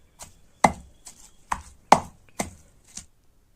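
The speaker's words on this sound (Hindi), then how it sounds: "हमें इस शलगम साग को अच्छे से कूटना है।" Turnip greens and garlic pounded into a paste for Kashmiri goji haak, six to seven sharp, evenly spaced thuds of a pestle or chopper striking close by, with no talk.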